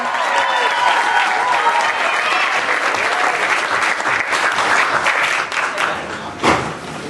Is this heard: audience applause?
yes